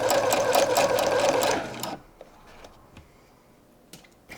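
A sewing machine runs fast stitching a thin hem for a French seam in shirt fabric, a loud close whirring burst of rapid needle strokes that stops, followed by quiet clicks and handling sounds.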